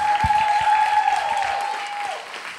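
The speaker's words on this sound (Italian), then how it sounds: "vorrei che faceste un grandissimo applauso ai Candelai che ci stanno ospitando" Audience applause at an Italian stand-up comedy show, a steady wash of clapping from the crowd that holds through and tapers slightly at the end, with a sustained tone running beneath it.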